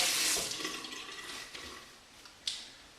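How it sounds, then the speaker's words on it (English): Water runs from a bathroom sink tap, a close hiss of flowing water that tapers off, then a short splash near the end, with no talking. "turn off the water, the hot, and I'll run the cold"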